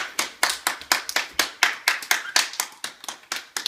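Children at school clap their hands together in a steady, fairly quick rhythm, each sharp clap distinct and close, repeating evenly for several seconds.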